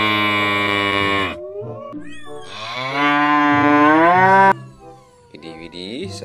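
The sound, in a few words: cow mooing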